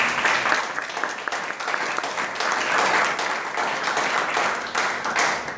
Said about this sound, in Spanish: ¿Puede usted dar un aplauso al Señor esta mañana?